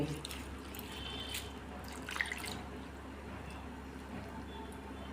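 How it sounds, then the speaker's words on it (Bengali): Lentils being washed in water in a home kitchen for pumpkin-leaf dal, with soft dripping and gentle splashing of water, fairly quiet and steady, with a slightly louder slosh near the end. "ডালটা ভালো করে ধুতে হবে, ডালে নোংরা থাকে"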